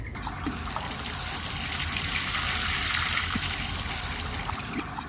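Water pours steadily onto soil in a shady garden bed planted with cuttings between phlox and a rose bush, a continuous close trickle and gush lasting several seconds with no talk.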